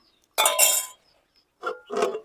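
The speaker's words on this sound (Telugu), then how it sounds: "మూత పెట్టేసుకుందా" A lid clinks down onto a pot of simmering fish curry: one sharp metallic clatter, then two softer knocks as it settles, close by, with no talking.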